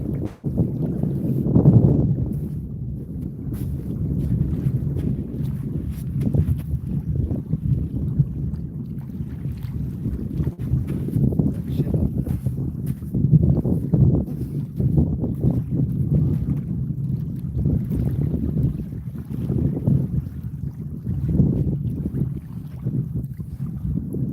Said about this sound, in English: Wind's got a little chill when it does pick up.